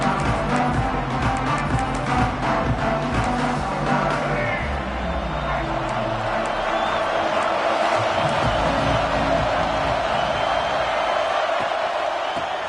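Dense roar of a packed home stadium crowd at an Ohio State v Michigan Big Ten championship football game, steady and loud throughout with cheering swells and a commentator talking over it.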